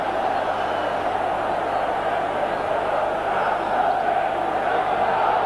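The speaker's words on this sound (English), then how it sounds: "that certainly produced some ironic cheering from the Italian fans" Large stadium crowd of Italian fans at a 1988/89 European Cup semi-final between AC Milan and Real Madrid lets out sustained ironic cheering, a dense continuous roar with no breaks.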